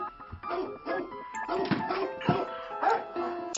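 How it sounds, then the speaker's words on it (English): Dogs bark and whimper in the horror video game The Cat Lady, mixed with thuds and other game noises over several seconds. "Oh, she let the dogs out."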